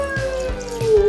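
Lemon-lime soda poured over strawberries and lemon juice, a close, continuous liquid stream with a rising gurgling tone and a few splashy pulses over about a second.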